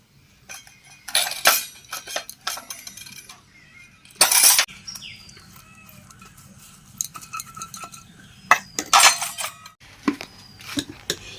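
Small bowls set together on a counter and brushed with oil for a homemade palm fruit cake: scattered clinks and taps of dishes at irregular intervals, with quieter brushing and handling sounds between them.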